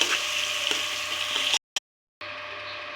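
Mustard seeds and spices tempering in hot oil for a radish chutney, crackling and sizzling steadily and fairly loudly, broken by a brief silent gap before the sizzle resumes.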